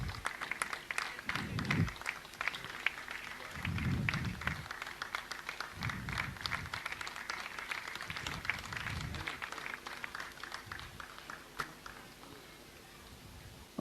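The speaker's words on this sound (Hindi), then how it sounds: "आप लोग तालियां बजाते रहिए जब तक सम्मान का क्रम चल रहा है" Soft, steady applause from a gathered audience during an honouring ceremony at a Jain religious assembly, continuous and fairly distant, with faint low thumps recurring underneath.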